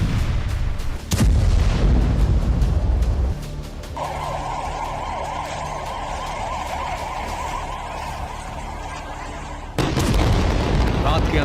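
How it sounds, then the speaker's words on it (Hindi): Continuous explosions level buildings into rubble, with loud blasts at the start and end and a steadier, quieter rumbling stretch between them. "लगातार धमाके और मलबों में तब्दील होती इमारतें।"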